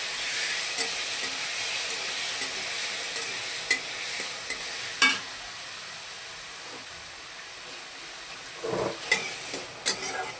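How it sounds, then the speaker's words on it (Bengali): Potatoes frying in a pan of oil in a home kitchen, with a steady hiss and sizzle throughout and a few sharp spoon scrapes and clinks, close and moderately loud with no talking. "এখন এবার এটার মধ্যে ভেজে নেব আলু।"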